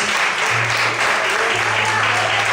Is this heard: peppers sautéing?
no